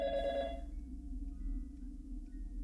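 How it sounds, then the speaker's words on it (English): A telephone rings in Garry's Mod with a bright electronic trill that sounds once and stops after about half a second. A faint low hum continues underneath. "The phone's ringing again."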